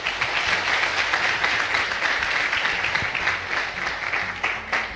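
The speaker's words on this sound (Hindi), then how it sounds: "एक बार आप लोग अपने लिए तालियां बजा लें।" An audience at a Safe Shop gathering in Agra claps loudly and steadily for five seconds, a continuous, evenly sustained wash of applause with no pause.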